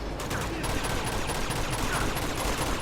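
Dense, continuous gunfire in the action video game Uncharted, a loud sustained fusillade of rapid shots and automatic bursts with no talk.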